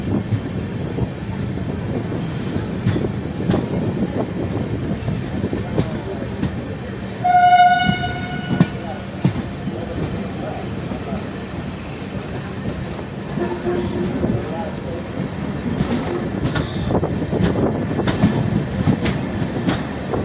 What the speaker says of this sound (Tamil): the train is carving into platform number 1